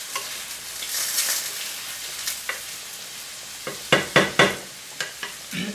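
Onions, peppers and mushrooms fry in a hot skillet with a steady crackling sizzle, broken by several sharp clatters of stirring toward the end, close and fairly loud with no talking.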